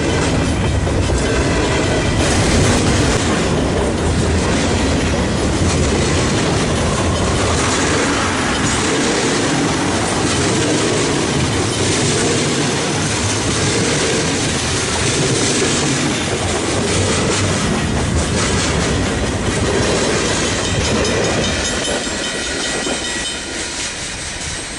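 A CN freight train of stack cars and manifest cars, with a distributed power locomotive in the middle, rolls past in winter with a loud, continuous rumble and wheel clatter that barely eases over about twenty-five seconds.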